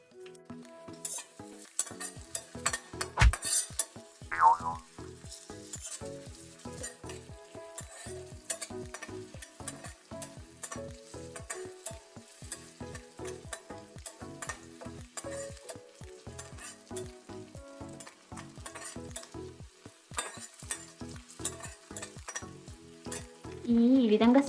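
Chopped garlic, ginger, onion, green chili and curry leaves fry in a pan for sweet corn rice, a steady close sizzle with frequent rhythmic scrapes and clinks of a metal spoon stirring throughout.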